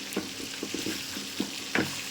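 Pieces of desi chicken fry in hot oil with turmeric and chili, a close steady sizzle broken by several sharp scraping stirs of a spatula in the pan.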